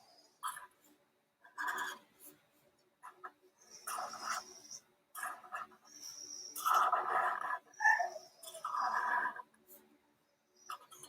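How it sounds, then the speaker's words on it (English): A dog whines and whimpers in a series of high, strained cries with short pauses between, fairly close. "my older dog is whining to go outside."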